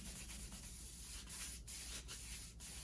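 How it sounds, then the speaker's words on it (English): Light sandpaper rubs over the cured surface of an epoxy glitter tumbler in steady circular strokes, a continuous close scratchy hiss with brief dips between passes and no voices. "So you're just gonna take your sandpaper,"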